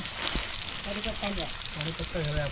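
Onion sizzling and frying in a pan at an outdoor cooking spot, a steady hiss of oil throughout with a few faint stirring scrapes, close and fairly loud.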